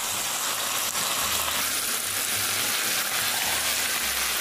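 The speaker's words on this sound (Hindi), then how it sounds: "अब तकरीबन इसको स्लो आंच पे 10 मिनट तक भूनूंगी" Chicken and potatoes fry on a low flame in a pan, giving a steady, dense sizzle with faint bubbling and soft low rumbles throughout, no voices.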